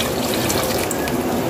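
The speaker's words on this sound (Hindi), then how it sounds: "अब इसमें हम डालेंगे यखनी।" Yakhni, a mutton broth for aloo gosht, poured from a jug into a cooking pot (handi), giving a steady, close, continuous splashing rush of liquid with no talking.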